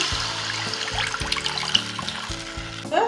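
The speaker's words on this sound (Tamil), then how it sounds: "ஒரு பேனில் புளி தண்ணி கொட்டுக்கலாம்." Tamarind water pours steadily into a pan, a splashing, gurgling trickle that runs for a few seconds and ends with a brief slosh.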